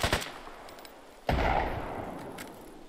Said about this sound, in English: Just threw a grenade at him.